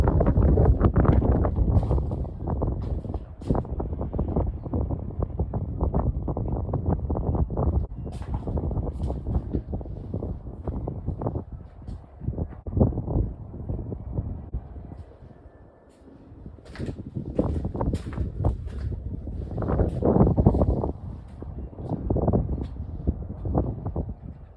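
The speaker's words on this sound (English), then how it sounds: "the wind is blowing a bit much" Strong wind blows outdoors on laundry day, buffeting the microphone in loud rumbling gusts that rise and fall over about twenty-five seconds, briefly easing in the middle before surging again.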